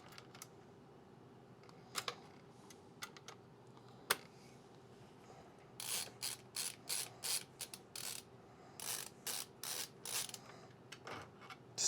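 A screwdriver ratchets screws into a home theater room build, with scattered clicks at first and then a run of quick, regular ratcheting bursts, close and moderately loud with no talking.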